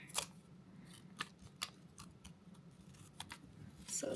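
Scissors snip paper for a planner page in a quiet room, a string of close, crisp cuts coming in quick irregular clusters.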